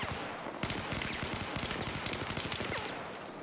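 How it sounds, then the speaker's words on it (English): Rapid automatic gunfire from a Battlefield match, a dense, fast burst of repeated shots lasting a few seconds, loud and continuous with no talk. "Cannon's taking some shots from Alfie there."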